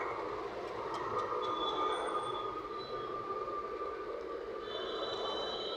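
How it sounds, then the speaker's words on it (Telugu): A train passes close by near Begumpet in Hyderabad, a steady, loud rail rumble with wheel noise and faint high squeals that holds throughout. "నెక్స్ట్గా అదే రైలు అనమాట."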